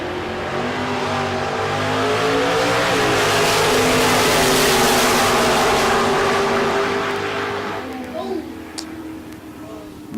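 Drag race cars launch side by side at a Texas Motorplex bracket race, one a Pinto, their engines building to a loud sustained roar that peaks midway and then fades as they pull away, with an announcer's voice running underneath.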